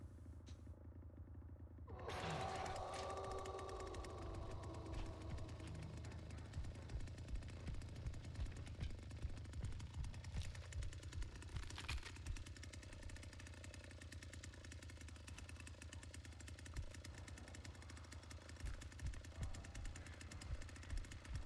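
Chainsaw engine running in The Texas Chain Saw Massacre video game, a loud rough rattling drone starting abruptly and continuing steadily throughout, with no talking.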